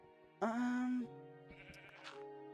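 A sheep in the Minecraft video game lets out one loud, wavering bleat close by, followed by quieter game sounds and soft clicks over a steady background tone.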